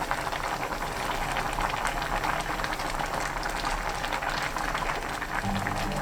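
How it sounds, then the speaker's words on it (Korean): Perilla leaf doenjang soup with green onion and chili simmers in a pot, a dense steady bubbling and crackling that fills the whole stretch evenly at close range. "깻잎, 파, 고추 넣고 살짝 숨 죽을 정도로 1스푼 끓입니다."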